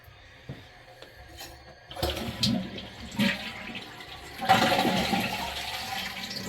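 A toilet flushing nearby: a quiet start, then a surge of rushing water around two seconds in, a stronger gush midway, and a steady, fairly loud water rush to the end.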